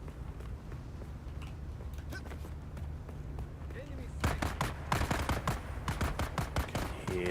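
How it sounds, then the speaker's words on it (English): Sharp, rapid gunshots crack in clusters in the video game Dune: Awakening, sparse at first and then denser and louder in quick bursts, with faint movement noises in between. "Can hear the gunfire here."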